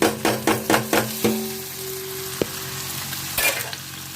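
Onions and green chillies dropped into oil with fried dried prawns, several quick sizzling bursts at first, then a steady hiss with a sharp clink and a later stirring scrape.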